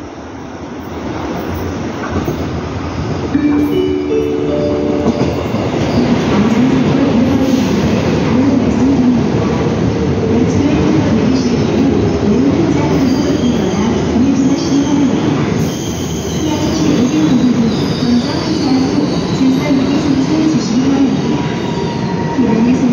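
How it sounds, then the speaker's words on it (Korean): A Seoul Line 1 commuter train rumbles into Geumjeong Station, loud and continuous, its wheels squealing and grinding as it rolls closer. "The train bound for Pyeongchang is now approaching."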